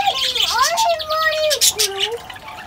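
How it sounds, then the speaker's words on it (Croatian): Parakeets at an animal park chirp and warble in bright, sliding whistles and tweets, close and loud, with a few quick overlapping calls and no talking. "pjevaju nam. Vidi, hajme što su slatke. Lijepe ptičice, papigice."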